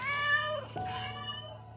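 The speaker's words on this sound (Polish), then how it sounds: "O, to słodki kotek." A cat in the video game Minecraft gives a single short, high meow that falls in pitch and trails off, clear and close with nothing else around it.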